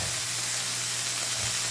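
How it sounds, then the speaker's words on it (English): Steady, dense sizzle of soufflé ingredients frying in a hot pan, a continuous hiss close by with a low hum underneath. "You can hear that sizzle."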